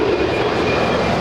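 Boeing 767-300ER jet, a 24-year-old Delta airliner at Los Angeles airport, giving a steady, loud roar of engine noise with a broad rushing hiss, constant through the whole moment with no talking.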